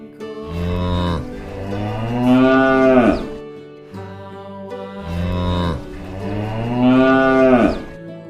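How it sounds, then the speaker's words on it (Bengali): A cow and calf: a cow moos loudly twice, each call long and drawn out with a short pause between, and no one talking. "গরু বাছুর দাঁড়িয়ে আছে।"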